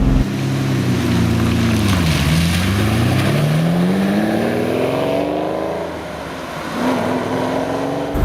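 A 2022 Lamborghini Countach engine pulls forward from low speed, its loud, close drone dipping then climbing steadily in pitch as it accelerates, with a brief easing near the end before building again; no talking.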